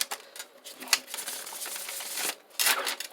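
Tarot cards being shuffled by hand: soft, rapid riffling and flicking bursts, close and fairly quiet, in irregular clusters with brief pauses, and no talking.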